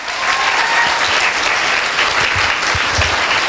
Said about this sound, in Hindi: एक जोरदार ताली होनी चाहिए दोस्तों।